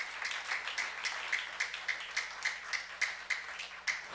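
A church congregation at a youth service claps in a steady rhythm, about twenty even claps spread through the hall at moderate volume, with no voices over them.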